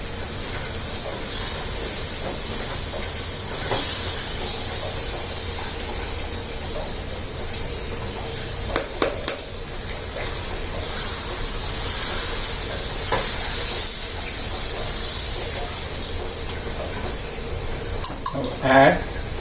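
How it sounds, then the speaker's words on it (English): Dosa batter spread across a hot dosa plate for crispy masala dosa: continuous soft sizzle and hiss with occasional scraping and light metallic clinks, close and moderate in level, no talking. "Now let us first spread the dosa batter"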